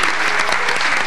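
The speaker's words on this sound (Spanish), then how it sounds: "Un aplauso para nuestros competidores." Studio audience applause at a televised comedy quiz show, dense, loud and continuous for about a second as competitors are cheered, with no talking over it.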